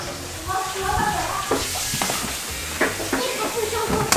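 Gnocchi and bacon lardons fry in a pan with a steady sizzle, broken by clacks and scrapes of stirring from a utensil, all heard close.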